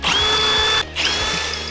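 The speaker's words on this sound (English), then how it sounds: "We're gonna make marks and drill holes and get this thing bolted" Power drill boring bolt holes through trailer boards, a loud steady whine that breaks off briefly near the middle and then spins back up, heard alone up close.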